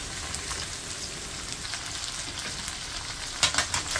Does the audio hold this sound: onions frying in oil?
yes